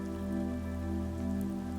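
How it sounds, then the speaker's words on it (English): A few raindrops tap against a backyard swing set outside a window, a soft, steady patter of light rain on a surface, close and even throughout with no voices. "He looks out the window again and sees only a few raindrops tapping against his swing set."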